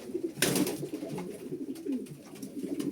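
Pigeons coo close by, a few soft throaty calls rising over a quiet loft hum, with no voices.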